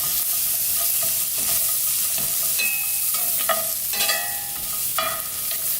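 Potatoes frying with garlic in a pan, a steady close sizzle with scattered scraping and stirring clatters from a utensil, no talking.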